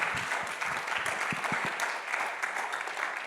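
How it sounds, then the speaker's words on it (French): An audience applauds after a talk, a short burst of moderate clapping from a modest crowd, fairly even throughout and slightly distant. "Je crois qu'on peut l'applaudir"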